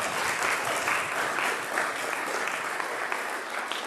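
Steady, dense audience applause at a seminary's State of the Seminary 2022 address, a continuous wash of clapping hands that holds evenly throughout without letting up.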